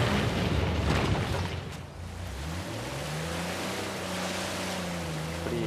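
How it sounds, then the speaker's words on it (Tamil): A jeep ploughs through water in the video game Uncharted 4, with a loud churning splash and rushing surge that settles into a steady engine drone rising in pitch as it powers on. "இப்படியெல்லாம் தண்ணிக்குள்ள போட்டு போட்டு போகிறப்பாரு."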